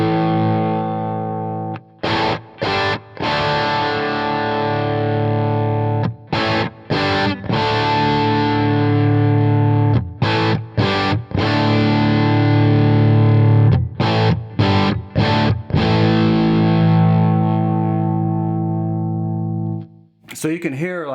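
Electric guitar played through a Jackson Audio Prism pedal, heavily distorted with its low end pushed thick and woolly, chords ringing and cut off in short rhythmic stabs, loud and close with no talking.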